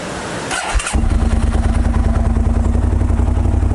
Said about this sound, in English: I bought a motorcycle.